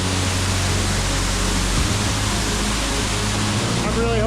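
Winter waterfall on a small creek in the Oregon backcountry, a loud, steady roar of falling water filling the whole stretch with an even, unbroken rush.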